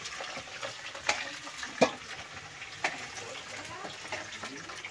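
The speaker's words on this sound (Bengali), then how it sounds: "আর এখানে শাশুড়ি মা আলু ভাজছে।" Potatoes fry in a pan in a home kitchen, a soft steady sizzle broken by a few sharp stirring knocks and scrapes, close and moderately quiet.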